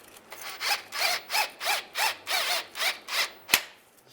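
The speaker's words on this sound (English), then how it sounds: "we'll tighten this down using a 13mm socket" A 13mm socket tightens bolts on a rear main seal cover of a 2007-2013 Chevy Silverado, heard as a rhythmic series of about nine close ratcheting strokes, each a short rasping burst, ending with a sharp metallic click.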